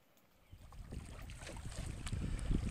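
Wind and water wash around a canoe paddled out across Cauliflower Lake in Algonquin, a rough, steadily building rush with soft splashy strokes under gusty microphone wind and no talking.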